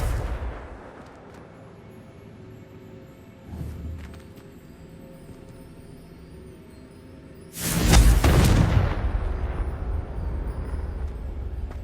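A Confringo spell in Hogwarts Legacy detonates in a loud, sudden explosive burst after a quieter earlier thump, then settles into a sustained rumbling roar that lingers to the end.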